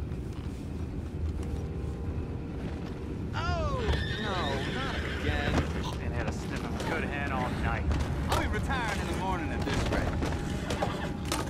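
Horses neigh and whinny repeatedly in a Red Dead Redemption 2 game scene, several shrill calls rising over a dense bed of clattering hooves, gunfire-like bursts and mechanical noise, with voices speaking throughout.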